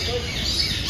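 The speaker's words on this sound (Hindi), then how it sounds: "यहाँ पे चिड़िया का आवाज़ सुन रहे हैं" At Alipore Zoo in Kolkata, birds chirp faintly against steady outdoor background noise, with short high calls scattered through a brief moment.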